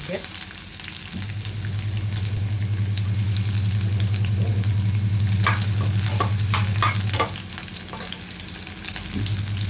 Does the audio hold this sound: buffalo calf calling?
no